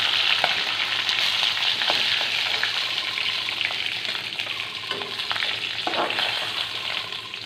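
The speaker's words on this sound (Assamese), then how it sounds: "এতিয়া মাছৰ মূৰখিনি ভালদৰে ভজা হৈ গ'ল" A fish head fries in hot oil in a home kitchen, giving a continuous close, bright sizzle with occasional soft clicks and scrapes of stirring, and no talking.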